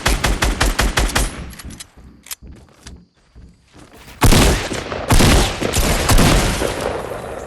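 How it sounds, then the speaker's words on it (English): Fortnite Battle Royale gunfire opens with a rapid volley of close shots that tapers into scattered single bangs. A brief lull follows before loud, booming blasts ring out, among them pump shotgun fire. "she hit me with a solid pump shot"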